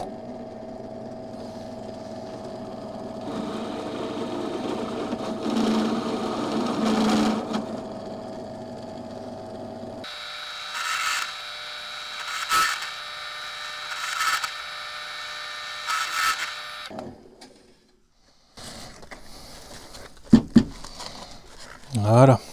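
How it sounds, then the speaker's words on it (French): A step drill bit enlarging a hole to 8 mm, heard as a steady, loud motor whine that shifts pitch partway through, then stops and gives way to brief handling clatter near the end. "Un coup de forêt étagé sur la fin pour agrandir le trou en 8."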